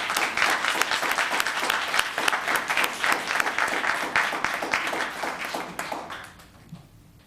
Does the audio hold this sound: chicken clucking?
no